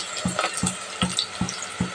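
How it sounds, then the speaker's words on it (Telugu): Onions frying with salt in a pan, a soft hiss and sizzle broken by five evenly spaced scraping stirs. "లైట్గా ఉల్లిగడ్డలు వేగడానికి సాల్ట్ యాడ్ చేసుకున్నాం, త్వరగా వేగుతాయి ఉల్లిపాయలు."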